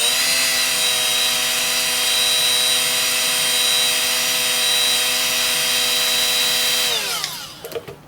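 A Milwaukee M12 FUEL 1/4-inch right angle die grinder runs at a steady high-pitched whine, loud and close, then spins down near the end with a falling pitch and a few clunks, no talk.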